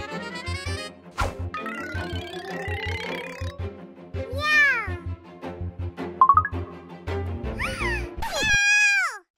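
A child imitates a cat with a run of drawn-out, rising and falling meows, loud and close, some shrill and squealing, broken by short gaps and low rumbling background noise.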